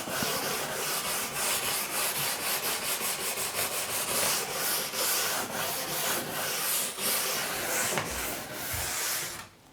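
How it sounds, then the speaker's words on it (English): A brass brush scrubbed along the base of a Nordix cross-country ski during waxing: steady, loud, close rasping strokes in a continuous rhythmic series that runs for nearly ten seconds, with no talk. "And that's with your brass brush. Just give it a bit of a rub."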